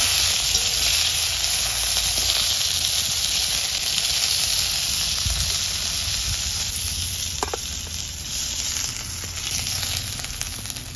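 Red bhetki fish frying in hot oil gives a steady, even sizzle and hiss that runs for the whole stretch, with no voices over it.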